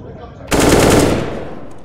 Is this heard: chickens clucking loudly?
no